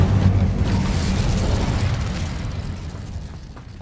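Incendio fire spell cast in Hogwarts Legacy, a broad roaring whoosh of flame with a low rumble that surges at the start and slowly fades over a few seconds.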